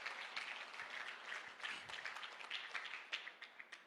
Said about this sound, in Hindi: एक बार स्वामी जी के लिए तालियां हो जाए